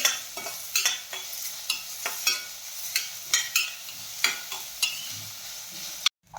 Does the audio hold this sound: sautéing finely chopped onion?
yes